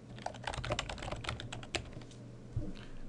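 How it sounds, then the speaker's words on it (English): Rapid, steady keystrokes on a computer keyboard entering text while drafting in AutoCAD 2014, close and continuous for a few seconds with a brief pause near the end, no voice. "And finally type some text."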